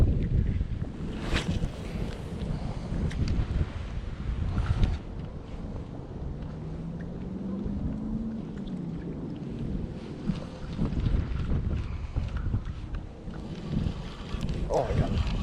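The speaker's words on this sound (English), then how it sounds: "This wind's really starting to pick up." Steady, gusty wind rushes over a lake around a small fishing boat during spring crappie fishing with ultralight gear, a constant low roar of wind buffeting the microphone throughout.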